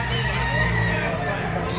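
A yellow-legged bull stag rooster crows in one sustained call, loud and close, with background voices and a low hum underneath.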